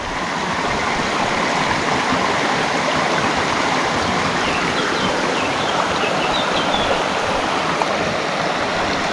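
Steady rushing water of a mountain stream in the Karkonosze (Giant Mountains), loud and continuous with no pauses, close by, with faint bird chirps high above the flow.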